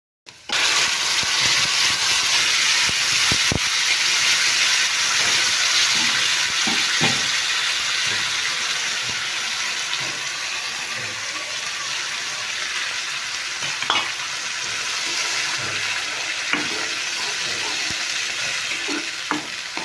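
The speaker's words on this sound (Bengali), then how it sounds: "মশলাটা দেওয়ার পর এখন আমি একটু ভালো করে কষিয়ে নেব" Spices sautéing and sizzling steadily in a hot pan for a puti fish curry with potato, tomato and yard-long beans, a continuous close fry with occasional stirring scrapes and clinks throughout.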